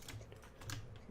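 Keys tapping in quick irregular bursts on a computer keyboard while coding state management in StencilJS, soft and close with no talking.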